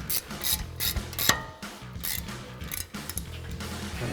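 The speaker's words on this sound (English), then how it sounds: "So we'll grab our ratchet and our 12-point 13mm socket." A hand ratchet with a 12-point 13mm socket tightening bolts while a Mammoth Dana 30 front axle is installed on a Jeep Wrangler TJ, giving close, repeated rasping clicks in short strokes with brief pauses between them.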